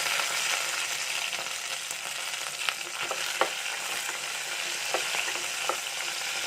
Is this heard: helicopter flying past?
no